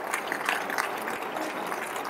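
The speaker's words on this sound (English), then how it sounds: "You can stand, you can clap" A crowd claps at a gathering, a steady, diffuse patter of many hands that sounds slightly distant and holds at an even level throughout.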